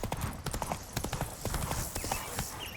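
Roach, a horse in the video game The Witcher 3: Wild Hunt, galloping with rapid rhythmic hoofbeats close by, along with a soft snort, over a faint ambient game background.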